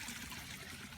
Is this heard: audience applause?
no